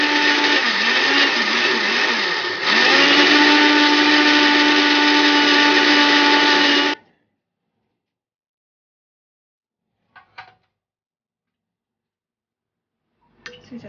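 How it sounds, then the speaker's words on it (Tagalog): An electric blender whirs loudly and steadily for about seven seconds while mixing ingredients for a sticky rice cake dessert, shifting pitch once partway through, then cuts off, leaving silence broken by a few faint clicks. "So yan po i-blender po natin."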